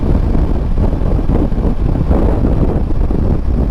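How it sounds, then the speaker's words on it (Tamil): Heavy wind blast roars against the microphone of a rider on a Himalayan 450 motorcycle on an open highway in Tamil Nadu. The rumble is loud and continuous, with low buffeting and no voices. "விண்டு பிளாஸ்ட்டு, சரியான விண்டு பிளாஸ்ட்."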